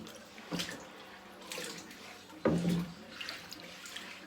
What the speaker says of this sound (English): going to rinse my cutting board off